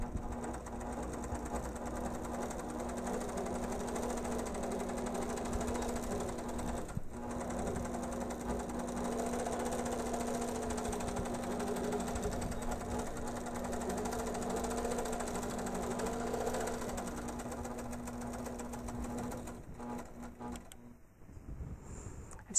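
An APQS longarm quilting machine stitches binding onto a quilt with a steady, fast mechanical whir and hum running continuously for about twenty seconds, briefly pausing once, then slowing and stopping near the end.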